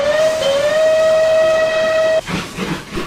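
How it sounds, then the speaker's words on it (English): A steam locomotive whistle in the Trainz railway simulator gives one long, loud, steady blast lasting about two seconds, then cuts off into a brief hiss of steam. "He blasted his whistle loud to try to warn Henry."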